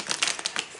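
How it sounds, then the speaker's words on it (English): Tarot cards shuffled by hand in a brief series of quick, crisp riffling flicks and snaps, close and fairly soft, with no talking. "We'll do our shuffle one more time"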